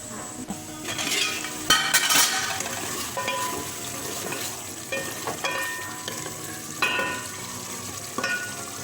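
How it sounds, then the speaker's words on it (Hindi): Shaljam gosht meat and masala sputter and sizzle in a pot while a spoon stirs and scrapes through it, with clinks against the metal rim every second or so; close and fairly loud, with no talk. "हम लोग इसको 5 से 10 मिनट ऐसे भुनाई करेंगे ताकि इसका मसाला सही से पक जाए"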